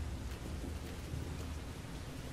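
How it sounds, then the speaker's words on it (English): Steady rain falls in the video game Resident Evil Revelations 2, a dense, even hiss with low rumbling beneath, constant and unbroken throughout with no voices. "Here comes the rain."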